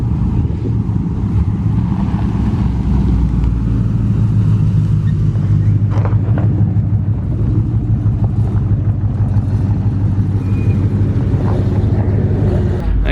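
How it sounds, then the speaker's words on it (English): Cars rolling in to a retro car show, a steady loud rumble of engines and tyres close by with wind buffeting the microphone throughout. "There's still cars arriving."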